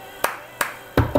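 Hands clap in a cup song routine, four sharp, close claps in an uneven rhythm with short gaps between them and no talk.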